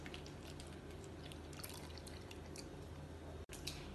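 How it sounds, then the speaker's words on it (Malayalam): Coconut first milk poured into mango payasam, a steady soft liquid trickle and dribble running continuously at close range with no talk. "ഇനി ഇതിലേക്ക് തേങ്ങയുടെ 1-ാം പാല് ചേർക്കണം."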